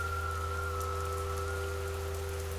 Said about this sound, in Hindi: बारिश की बूंदें चाकू की तेज धार की तरह मेरे शरीर पर गिर रही थी